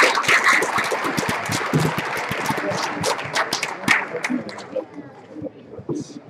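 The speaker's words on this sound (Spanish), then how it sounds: "pero un buen aplauso." Audience applause at a line-follower robot contest after a failed run, a dense wash of many hands clapping that carries on steadily for several seconds, fading slightly toward the end.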